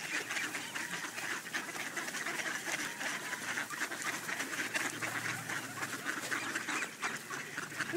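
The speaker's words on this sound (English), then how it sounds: "Look at all the ducks." A dense chorus of ducks quacking continuously in snowy Victoria, many birds at once, loud and busy with no pauses.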